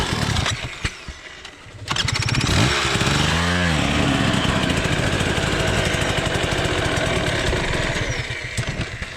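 A KTM 300 two-stroke dirt bike on a rocky hard enduro trail revs loud and close, rising and falling through repeated throttle blips before settling into a sustained buzzing drone for several seconds.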